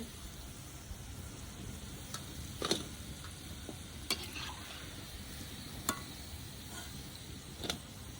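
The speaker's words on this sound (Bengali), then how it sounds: "এরকম করে সবগুলো ভেজে নেব" Palm fruit fritters fry in oil with a continuous low sizzle, broken by a few sharp clicks and taps from the utensil turning them in the pan.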